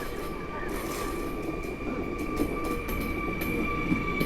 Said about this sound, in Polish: Obok jedzie także flirt, który jedzie do Mławy.